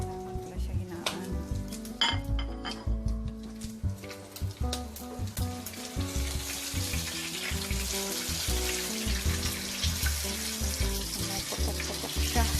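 Pork chop frying in oil, popping and crackling over a continuous sizzle that grows broader and hissier in the second half, with faint clinks of utensils and music in the background.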